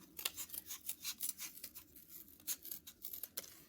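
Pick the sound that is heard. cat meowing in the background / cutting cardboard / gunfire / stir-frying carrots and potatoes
cutting cardboard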